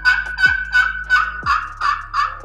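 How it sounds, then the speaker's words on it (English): Turkey hen yelps worked on a slate pot call, a rhythmic series of about seven sharp, raspy clucking notes, close and clear, alone. "You can make a variety of hen sounds."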